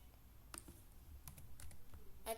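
Typing on a computer keyboard, a quiet scatter of irregular clicks and key taps, close and faint, with no speech.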